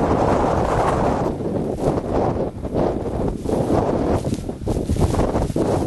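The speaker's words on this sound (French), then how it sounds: "Et du vent, toujours du vent," Strong wind battering the microphone high on Aconcagua at 6250 metres, a loud, continuous low rumble with gusty surges and dips, no voices, just relentless buffeting from start to finish.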